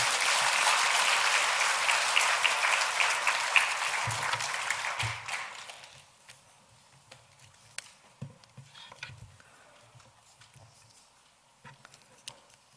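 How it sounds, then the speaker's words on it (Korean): A church congregation at a Korean church in Orange County applauds in welcome, a dense, steady roar of clapping that fades out after about five seconds and leaves a quiet room with scattered small knocks. "우리 박수로 한번 맞이해 주시면 감사하겠습니다"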